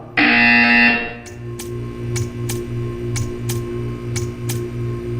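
A buzzer in the video game Portal 2 sounds once, loud and sustained for about a second, followed by a low pulsing hum with regular ticking clicks.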